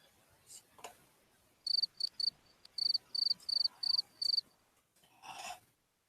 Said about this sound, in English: Is that a cricket sound? Yes, that's a cricket sound.